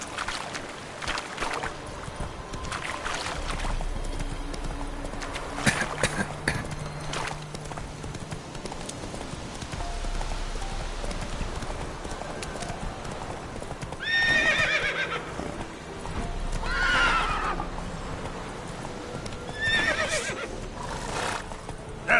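Roach the horse in the video game The Witcher 3, galloping with a continuous clip-clop rhythm and letting out a couple of clear whinnies partway through, moderately close with ambient game sound underneath.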